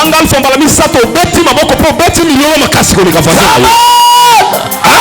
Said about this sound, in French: Tu vas crier alpha 3 fois et tu acclames et tu donnes à Dieu le cri de joie.